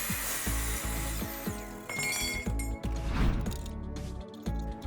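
A 7¼ inch miter saw fitted with a steel Demon blade cutting metal pipe, a loud close whine with repeated rhythmic grinding pulses as the blade bites through, no speech.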